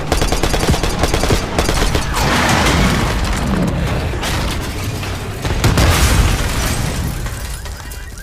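Sustained gunfire and explosions fill a Call of Duty: Black Ops 6 street fight: dense, loud automatic bursts layered with heavy booms, continuing without a break and swelling again near the end.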